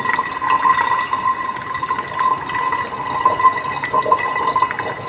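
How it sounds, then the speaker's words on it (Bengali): Mango juice is poured from a jug into a pan, a steady liquid pouring and splashing sound that runs continuously at moderate loudness with no voices. "এখন এই আমের জুসটা চাকনিতে ঢেলে দেব, সুন্দর করে সেঁকে নেব।"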